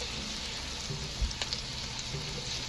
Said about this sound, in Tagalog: Ito-toast na rin natin yung garlic konti para mas mabango siya.